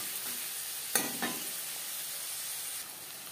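Sliced onions, with a little chopped green chilli, fry in a pan for fish kalia, giving a steady soft sizzle with a couple of brief stirring knocks partway through.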